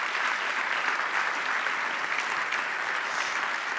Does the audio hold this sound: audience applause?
yes